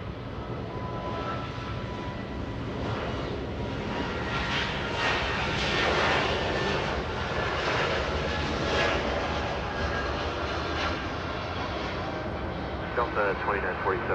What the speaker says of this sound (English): A220 getting a move on